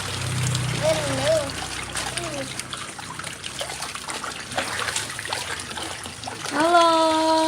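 A child splashes and plays in water, swimming, with soft trickling and splatter throughout; a voice talks over it and a brief tonal squeal rises near the end.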